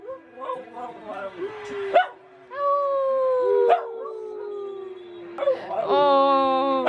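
A dog howls in long, wavering rising and falling notes with short yips and whimpers in between, close and fairly loud, with a brief voice joining at times.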